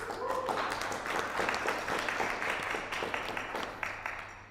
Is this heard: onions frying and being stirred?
no